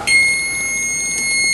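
Steady electronic multimeter beep during a continuity check across coil wires, a sustained high tone with harmonics holding for over a second, clear and alone.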